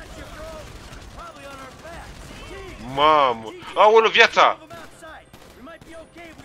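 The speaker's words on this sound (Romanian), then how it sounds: "De ce aud mai focuri de armă?" Bursts of gunshots in the open-world game GTA 5 ring out under excited shouting, with a couple of louder, sharper volleys partway through over a background of voices.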